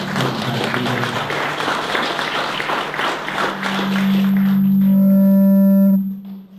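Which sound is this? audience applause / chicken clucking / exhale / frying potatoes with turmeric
audience applause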